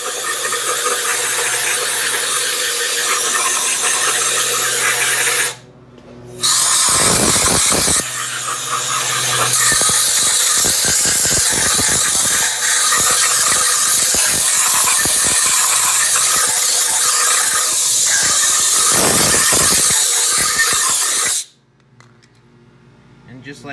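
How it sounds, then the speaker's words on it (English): Brake cleaner spray and compressed air blasting over 6.0 Powerstroke engine cylinder heads, a loud, steady hiss running nearly continuously, broken by a short pause and ending in quieter room sound. "we'll get our brake clean going. Then we'll just grab our air."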